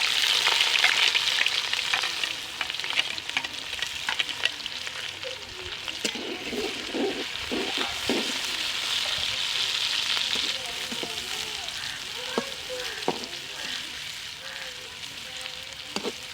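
Onions sizzle steadily in hot ghee in a pan, a dense continuous frying hiss with occasional stirring clinks and pops, close and fairly loud with no talking.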